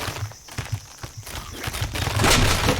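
Rapid bursts of gunfire from the video game King of Crabs, a dense crackling volley that builds and grows louder toward the end, with no talking over it.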